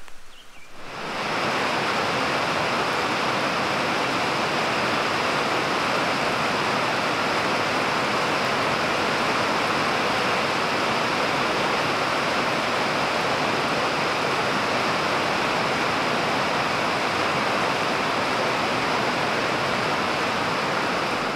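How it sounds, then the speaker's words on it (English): Heavy rain pours down outside a workshop, a dense, steady roar that swells in within the first second and holds loud and unbroken throughout, with no voices over it. "Let it rain."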